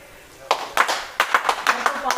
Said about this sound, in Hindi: जल्दी से पहले ताली बजाइएगा।